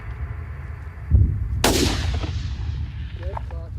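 A single loud rifle shot at a buck while big-game hunting outdoors, a sharp crack with a long rolling echo trailing off, followed by a brief faint voice.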